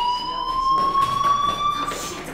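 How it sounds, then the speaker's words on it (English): A fire alarm rings in the video game Life is Strange, a steady loud electronic tone with high overtones that drones without pause for the whole stretch. "Hey, do you hear that fire alarm?"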